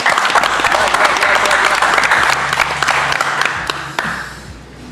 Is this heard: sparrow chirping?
no